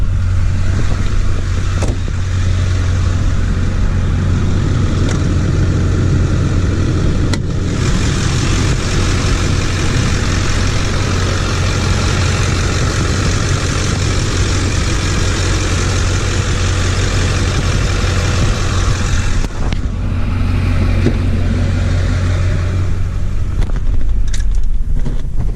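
A 2004 LB7 Duramax diesel with an aftermarket K&N intake runs steadily under an open hood, giving a loud, close, low idle rumble that holds for the whole stretch with a few brief clicks and knocks.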